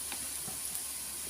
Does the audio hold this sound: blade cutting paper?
no